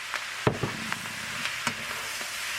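Shrimp tossed back into a pan of cabbage and greens sautéing for lo mein, giving a steady close sizzle with a few soft knocks and stirring scrapes.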